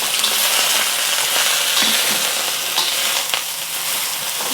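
Broccolini hits hot cooking oil in a wok and stir-fries with a loud, dense, continuous sizzle and a few spatula scrapes, close up and without talk.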